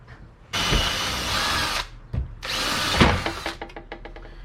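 Power drill boring a hole through a metal seat pan from a Yamaha XS650 motorcycle, two loud close bursts of drilling separated by a short pause, ending with rattling clicks as the bit stops.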